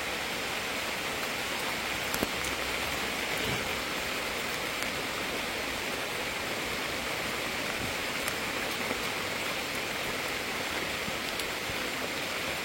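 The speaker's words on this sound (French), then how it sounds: "Et voilà, une petite pluie." Light rain falls steadily in the Amazon jungle, a dense, even hiss of drops close around the listener with no voices over it.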